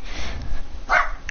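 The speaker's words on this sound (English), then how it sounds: "Just because you see another dog doesn't mean you have to bark like that." A pet dog gives two short, loud barks close by, one near the start and another just before the end, with no talking.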